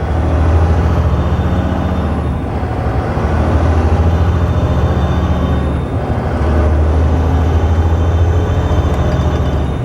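A 2007 Volvo 880 truck with an 18-speed Eaton Fuller UltraShift, hauling an RV, accelerates hard at full throttle, its loud diesel drone steady and close in the cab, dipping briefly between gear shifts.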